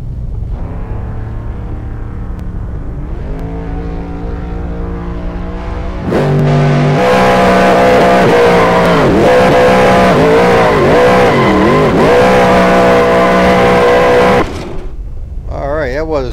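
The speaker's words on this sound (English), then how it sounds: "Nice sound in Corvette, isn't it?" A Corvette's engine revs hard in a racing video game, building from a steady idle drone into a loud, high rising and falling roar for several seconds before dropping away, with a voice talking over it.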